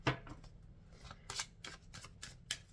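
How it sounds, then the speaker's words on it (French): Oracle cards are shuffled and drawn in a quiet room, a series of soft, crisp riffling swishes and flicks that come in uneven bursts. "je vais tirer une carte conseil"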